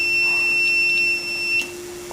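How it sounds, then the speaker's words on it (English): An SFD diesel fuel purifier's water alarm beeps in a high, thin electronic tone with short on-off pulses over a steady machinery hum, then stops. "We have the alarm start sounding that there is water in the SFD."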